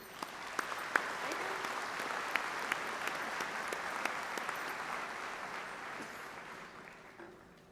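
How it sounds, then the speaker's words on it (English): Distant, steady applause from a large commencement crowd for the platform party, an even wash of clapping with a few sharper claps standing out, fading slightly toward the end. "Won't you please join me with a warm round of applause for our platform party?"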